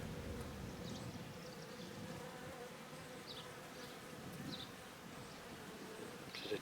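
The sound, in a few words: honey bees buzzing inside a hive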